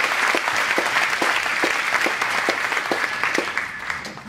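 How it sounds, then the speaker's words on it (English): A crowd of graduates and guests at a school commencement ceremony applauds in a full, sustained round of clapping, with a regular rhythmic beat of unison claps running through the dense patter and easing slightly toward the end. "can we give all of us a quick round of applause?"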